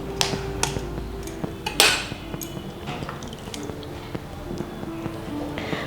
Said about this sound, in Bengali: এটা একটু মিক্স করে দিচ্ছি।